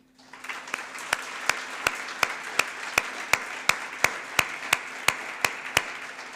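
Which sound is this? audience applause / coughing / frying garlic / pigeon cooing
audience applause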